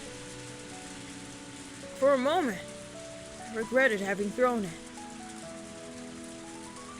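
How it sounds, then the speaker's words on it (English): Heavy rain downpour in the Higurashi: When They Cry video game, a steady hiss of rain running throughout, with someone talking briefly over it. "The surface was tempestuous because of the downpour"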